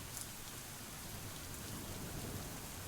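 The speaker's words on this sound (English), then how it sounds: "as the rain continues to bear down on us" Heavy rain pours down steadily outdoors, a dense, constant hiss of drops drumming on surfaces with no break, close and loud throughout, with no voices.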